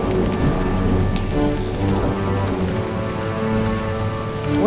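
A Jurassic Park: The Game thunderstorm plays as continuous heavy rain with a low rumbling roll of thunder underneath and faint tonal game sounds, steady and fairly loud.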